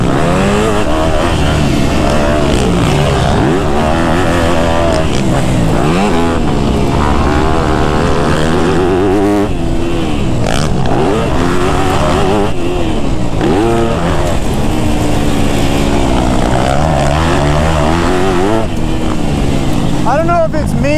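A Yamaha YZ250F dirt bike rides through winter terrain with braking bumps, its four-stroke engine droning loud and close with constant rises and falls in pitch as the throttle opens and closes, wind buffeting mixed in.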